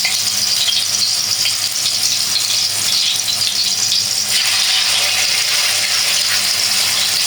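Chapli kebab fries in a pan with a loud, continuous close sizzle and crackle, steady throughout with no voices.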